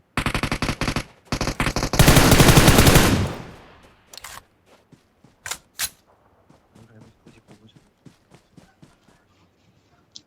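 Rapid automatic gunfire bursts in the PUBG Mobile shooter, loud sustained volleys in the first three seconds, followed by scattered single shots and soft footsteps fading into quieter intermittent clicks.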